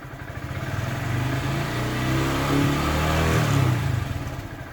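Stock-intake Honda Grom motorcycle revved up to about 5000 rpm and held there, a steady mid-pitched engine drone that swells in slightly and then eases back down toward idle.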